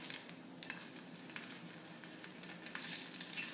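An egg fries in butter in a cast iron skillet with a steady, bright sizzle and crackle throughout, joined by a few soft scraping taps as a spatula works under it. No one speaks.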